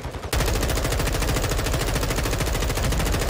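Sustained automatic gunfire in the video game Modern Warfare 2, a loud, dense stream of rapid shots that begins abruptly after a brief quiet moment and continues steadily to the end.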